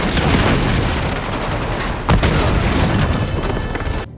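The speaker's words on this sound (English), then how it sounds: "I had to shoot 3 rockets with the RPG to take out the tank" RPG rockets fired at a tank in the Uncharted 2 video game, heard as a loud, dense wall of booming blasts and rumbling gunfire that swells throughout, with one sharp impact near the middle.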